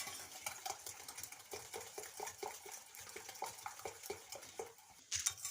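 Oil and milk are stirred together in a bowl for a wet chocolate cake batter, giving a steady rhythmic scrape and slosh of a utensil, close and moderately quiet, with no talking.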